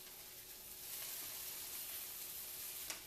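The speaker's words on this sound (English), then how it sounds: "So at this point we can shift the okra a little bit." Okra sizzling steadily in a hot pan as it is shifted and flipped rather than stirred, a soft continuous hiss with a faint scrape near the end.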